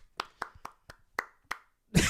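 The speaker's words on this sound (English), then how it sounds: "Oh, that was one person clapping." One person claps hands alone during a live-streamed hand technique workshop: six sharp, isolated claps at an even, unhurried pace, close and clear, ending in a brief burst of noise.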